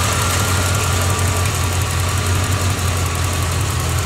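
A 1986 Corvette with an L98 V8 idles steadily after its EGR port has been cleaned, a low, even rumble with a constant mechanical hum and no talking.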